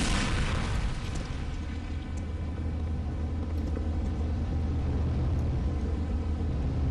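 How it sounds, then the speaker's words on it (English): A grenade blast in Counter-Strike: Condition Zero, a single loud explosion at the start that decays into a long, low rumbling tail lasting several seconds. "That is grenade."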